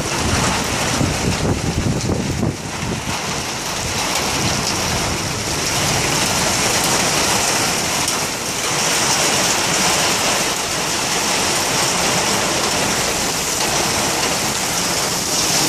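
Heavy rain hammers down out of nowhere on a cold day, a loud, dense roar of water with gusty swells and buffeting wind on the microphone, steady for the whole stretch with no one talking.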